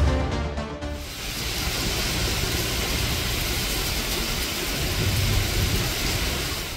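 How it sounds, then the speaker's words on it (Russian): Sudden thunderstorm with a strong squall and heavy rain in the Poronaysky district of Sakhalin: a dense, even rush of rain with low rumbling underneath, steady and moderately loud after a brief tonal sound at the start. "Неожиданная гроза, сопровождаемая сильным шквалом и обильными осадками"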